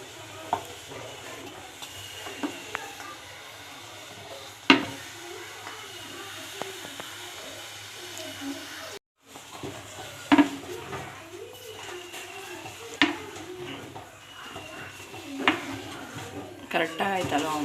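Semolina cooking in a pan over a low flame, with a soft steady sizzle and repeated scrapes and clinks of a spoon stirring against the metal, including a few sharper knocks.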